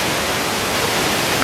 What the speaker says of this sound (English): All right, another big waterfall.